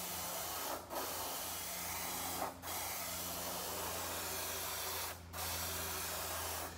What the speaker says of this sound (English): I'm spraying around and I'm getting some overspray